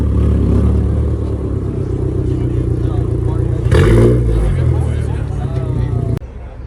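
A Nissan Skyline GTS-t R32 four-door sedan pulls away from a cars-and-coffee meet, its engine a steady rumble that rises in a brief rev midway, under crowd chatter and nearby talking.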